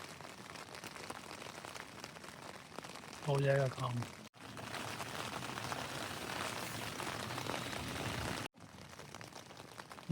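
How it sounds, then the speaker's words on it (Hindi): Heavy rain pours in a steady, dense rush at a wild campsite on the Sweden-Norway border, broken briefly by a short spoken phrase and two abrupt gaps. "बारिश बहुत तेज़ हो गई है"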